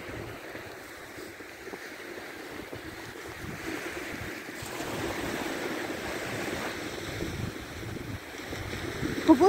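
Steady wash of sea surf rolling on a snowy Odessa beach in winter, with wind buffeting the microphone throughout; no voices.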